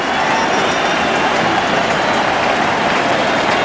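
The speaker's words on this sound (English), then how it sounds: "So the crowd up for the umpteenth time tonight." A baseball stadium crowd roars continuously through a tense ninth inning of a close game, a loud, dense wash of cheering and noise with no break or pause.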